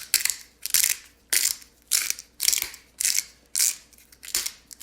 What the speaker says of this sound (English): I always like using a pepper grinder.